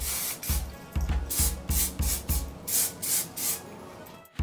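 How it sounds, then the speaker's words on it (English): Hairspray is sprayed onto freshly curled hair in several short, close hissing bursts, about eight puffs in quick uneven succession, some with a faint pump click at their start. "now all I have to do is finish it off with some hairspray"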